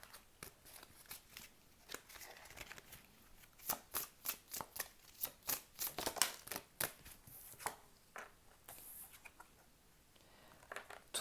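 Tarot cards being shuffled at close range, a quiet run of rapid crisp riffling snaps and flutters that come in bursts with brief pauses, no voices.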